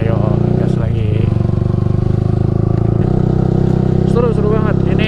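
A Yamaha R15 v3 fitted with a Ronin Musashi exhaust accelerates hard, its close, loud engine droning steadily with rising and falling rev sweeps toward the end, over wind rush.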